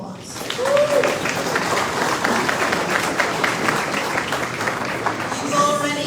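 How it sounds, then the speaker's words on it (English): An audience at a US Independence celebration breaks into steady applause, many hands clapping continuously for several seconds, with a voice briefly heard over it. "Let's give them a round of applause."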